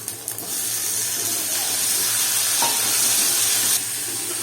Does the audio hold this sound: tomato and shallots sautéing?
yes